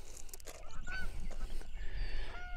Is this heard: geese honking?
yes